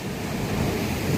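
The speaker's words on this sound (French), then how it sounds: "On regarde les vagues s'éclater." Ocean waves break and crash on a rough, murky sea, a dense, steady roar of surf mixed with wind noise buffeting the microphone, loud and close throughout.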